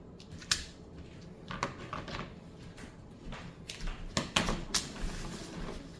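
Scotch tape is pulled off a roll in three strips, with faint sharp ripping and crackling bursts and small handling clicks, quiet and close, with no talking.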